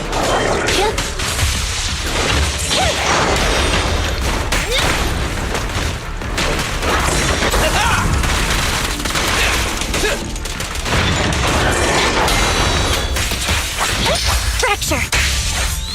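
Loud, dense gunfire fills a Zenless Zone Zero fight, with rapid bursts, booming hits and whooshes crowding together almost without pause, and short character voice lines cut in over the shooting.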